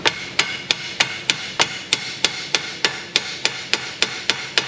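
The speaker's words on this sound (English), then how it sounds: "Yeah, about that hammer." Steady hammer strikes on a part of a Ford E4OD automatic transmission during a repair, about fifteen sharp, evenly spaced metallic blows, close and loud with no talking.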